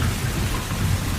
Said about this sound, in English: the rain isn't letting up